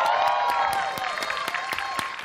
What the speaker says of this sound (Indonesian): Tepuk tangan untuk Desta.